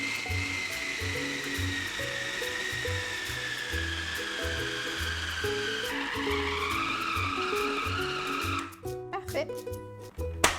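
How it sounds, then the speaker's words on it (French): A food processor runs steadily, kneading dog biscuit dough with a loud, continuous whirring motor drone and rising whine, then sputters and stops near the end as the dough gathers into a ball. "Et on laisse tourner le robot jusqu'à temps que la pâte ici forme une boule à l'intérieur du robot."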